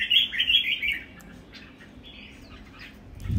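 A clean, unringed songbird kept in a cage chirps in a bright, fast burst at the start, then trails off into quieter, scattered calls with low handling noise near the end.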